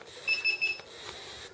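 A Smartcane mobility device gives three short, high-pitched electronic beeps in quick succession, close by and alone in a quiet room.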